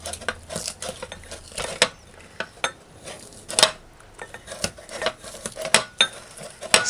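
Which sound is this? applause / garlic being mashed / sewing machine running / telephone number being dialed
garlic being mashed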